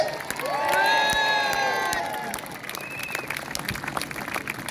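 At a mini boat battle show in Scarborough, a large outdoor crowd claps and cheers for the groundskeepers, with whistles and shouts rising in a loud swell and then easing into scattered applause.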